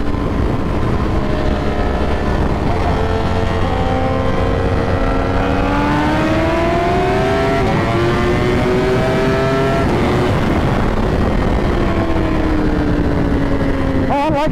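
A Ducati Panigale V4 R motorcycle launches and accelerates, its loud engine pitch climbing steadily through the gears in a continuous high-revving roar that stays close throughout.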